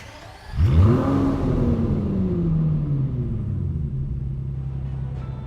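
An Aston Martin DB11 engine fires and revs sharply once, the roar climbing then sagging back into a deep, steady rumbling idle that carries on close and loud.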